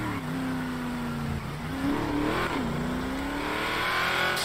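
Dodge Charger Hellcats drive past, a steady engine drone rising and falling in pitch as the cars accelerate, audible over constant road and radio-like background noise.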